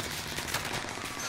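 Dense, continuous gunfire in the battle royale game Call of Duty: Warzone, a steady rattling wash of shots with no pauses, fairly loud and close.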